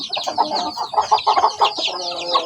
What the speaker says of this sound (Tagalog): So yan yung ating mga alagang pasisiw